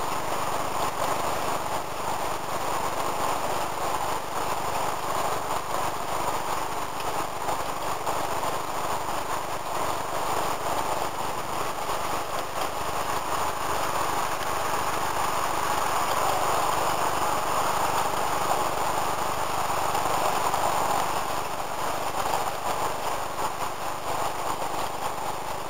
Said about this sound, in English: There's the tail end and the engines are just coming